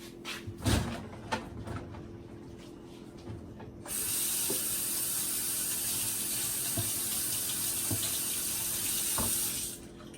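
A few knocks and clatters, then water runs from a kitchen tap in a steady hiss for several seconds while food is rinsed, stopping abruptly near the end.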